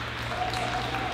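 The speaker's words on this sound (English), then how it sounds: "all those guys down here are clapping for him" A crowd claps steadily in the distance at a 2020 Corvette delivery at the Corvette Museum, a soft continuous patter of applause over a low background hum.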